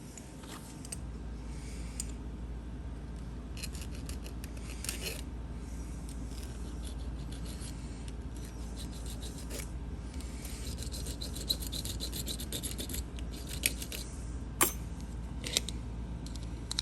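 A file rasps over an antique brass barrel key for a three-lever desk lock, giving a quiet series of scraping strokes with short pauses between them and a few sharper clicks near the end.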